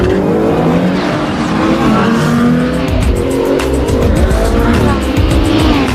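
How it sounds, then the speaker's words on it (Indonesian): Race cars and a supercar speed around a circuit in a movie street race, engines roaring loudly and continuously with tires squealing and skidding over the noise. "Sylvain langsung gaspol ikut balapan melawan supercar itu"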